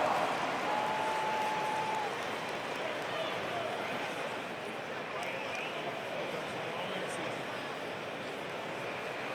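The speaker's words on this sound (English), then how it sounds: "Give them a round of applause." Arena crowd applauding the Cleveland Cavaliers Dance Team during an NBA game between the Heat and the Cavaliers, a dense, steady wash of clapping and crowd noise that holds evenly throughout.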